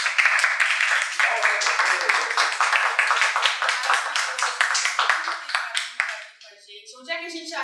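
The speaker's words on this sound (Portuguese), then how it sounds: "Uma salva de palmas para esse homem." Applause from a studio audience on a podcast set, a dense patter of claps that rises quickly and then thins out, with voices starting to talk as it dies away.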